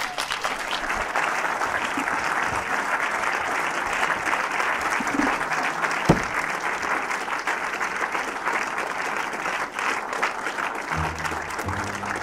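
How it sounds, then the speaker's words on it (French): A cinema audience at a film screening on a touring event applauds steadily, a dense sustained wash of clapping from a full room that holds at an even level, with faint voices underneath. "ça applaudit"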